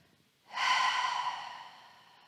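A single deep yoga exhale, close and breathy, swells quickly, then fades slowly over about two seconds like a soft sigh, with quiet room tone before it.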